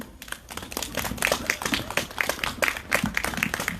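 A crowd claps at a candlelight rally in Seongju, a lively stretch of fairly close applause with a loose rhythmic beat that stays at a steady level throughout.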